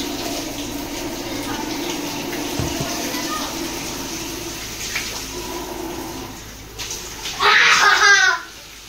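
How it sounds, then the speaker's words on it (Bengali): During a bath, water trickles and sloshes softly in the background, then bursts into a loud, close splash for about a second near the end. "এটা কি স্নান করছিস?"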